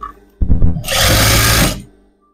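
A short burst of a sewing machine stitching petticoat fabric: a few clunks as it starts, then a loud, steady whirring run for about a second before it stops, close and alone.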